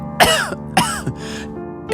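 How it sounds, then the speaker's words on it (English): A person coughs three times in quick succession, close and fairly loud, each harsh burst rasping briefly before fading into a quiet room, with no talk around it. "It's just a cough."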